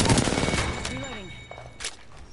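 Apex Legends gunfire crackles as a loud, rapid burst of shots up close, then fades to a few scattered, fainter cracks, with no talking.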